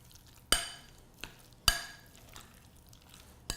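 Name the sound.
stirring a salsa mixture with cumin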